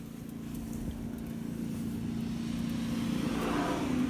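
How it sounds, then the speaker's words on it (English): Road traffic rolls past a parked 2019 Kawasaki Z650 motorcycle, a steady engine drone building in loudness as a vehicle approaches and passes close by, with no talking. "So just let the traffic go by."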